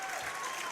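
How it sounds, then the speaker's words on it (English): A brief burst of crowd applause in a gym at a girls' basketball regional championship as a player leaves the game, steady and dense, with no one speaking over it. "She gets a well-deserved round of applause for the way she played today"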